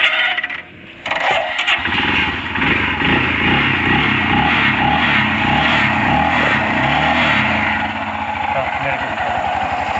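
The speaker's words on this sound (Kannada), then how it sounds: "ಸೊ ಇವಾಗ ಸೆಂಟರ್ ಸ್ಟ್ಯಾಂಡ್ ಹಾಕಿದ್ದೀನಿ, ಸ್ಟಾರ್ಟ್ ಮಾಡ್ತೀನಿ ಗಾಡಿ." A Royal Enfield Himalayan motorcycle sits on its centre stand in neutral as its engine cranks, catches and settles into a steady, loud, close rumbling idle, with a person talking over it.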